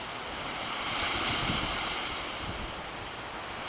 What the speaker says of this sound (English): You hear those ocean waves in the back?